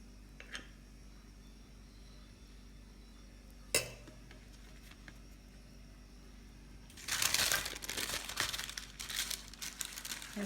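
Butter paper crinkles and rustles as it is handled while making chicken shawarma at home, starting after a quiet stretch with a single sharp tap, then a close, busy burst of crackling paper noise.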